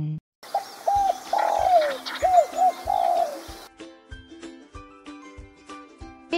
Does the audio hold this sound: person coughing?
no